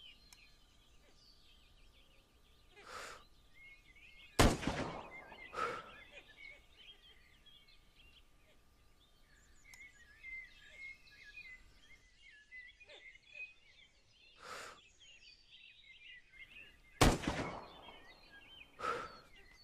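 Rifle shots in the survival game SCUM, a few sharp, fairly distant cracks spaced several seconds apart over faint outdoor ambience with chirping birds.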